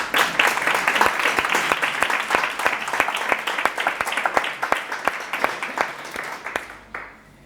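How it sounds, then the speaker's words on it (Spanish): A conference audience at a cultural athenaeum applauds to welcome a doctor to the stage, producing a dense run of steady hand claps that holds for several seconds and then stops abruptly near the end. "Les pido un fuerte aplauso para recibir a la doctora Cristina Oliva Martí"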